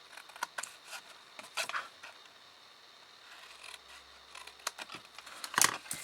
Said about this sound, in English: So you're just cutting off that little side triangle.